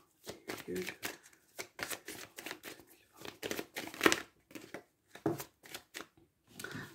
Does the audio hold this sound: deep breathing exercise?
no